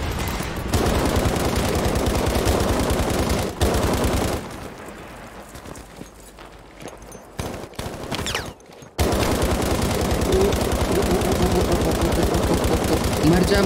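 Gunfire in Battlefield Mobile rattles in dense bursts of loud automatic shots, breaks off into a quieter stretch of scattered sounds, then resumes as heavy continuous firing.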